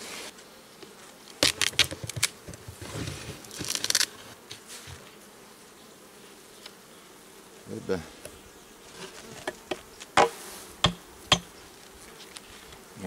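Honeybees buzz in a droning hum from a full, open beehive up close, broken by irregular sharp clicks and knocks as the hive is handled.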